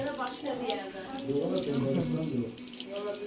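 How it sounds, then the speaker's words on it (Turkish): Tap water runs steadily into a bathroom sink while a brush is being washed, a soft continuous splashing stream heard close by, with faint voices in the background. "O fırçayı yıkayacak."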